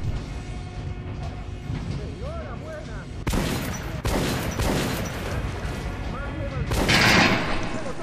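Shotgun blasts in the first-person shooter Metro Last Light, several sharp loud shots about a second apart with mechanical pump and reload clatter between them, over game ambience, while someone talks in Spanish.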